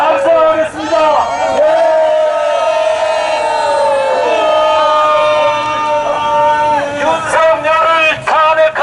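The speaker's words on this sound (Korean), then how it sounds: "자, 믿으시면 한 번 더 함성하겠습니다." A large crowd at a street protest rally in Los Angeles roars and shouts together in a loud, sustained cheer, with voices rising and falling in waves close by.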